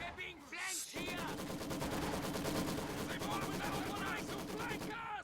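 Maxim machine gun fire in a World War II strategy video game plays as rapid, sustained bursts of rattling shots, with game voices and effects around it.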